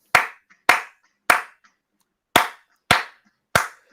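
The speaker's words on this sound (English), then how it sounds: "I do like a 2 sets of 3 claps just to kind of like get in the zone" Two sets of three sharp hand claps, close and loud, each triple evenly spaced, with a short pause between the groups and silence otherwise.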